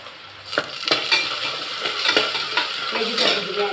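Sliced onions sautéing in hot ghee in a pan for vegetable biryani, a soft continuous sizzle broken by several sharp scraping and clinking strokes of a spoon stirring against the metal.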